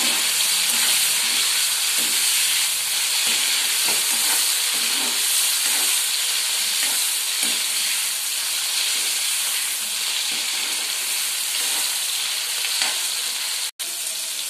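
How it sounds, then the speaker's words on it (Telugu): Tomatoes frying in a pan for a Telugu ridge gourd and chana dal curry, a steady loud broadband sizzle filling the whole stretch with faint stirring scrapes and one brief dropout near the end, no talking. "ఇప్పుడు టమాటా కూడా వేసుకుంటున్నాను"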